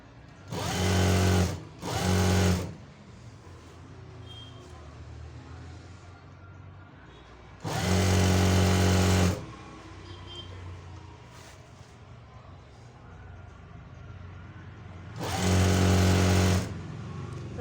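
A sewing machine stitches a fall onto a saree in three loud, steady bursts of rapid mechanical whirring, the first split in two, separated by quiet pauses.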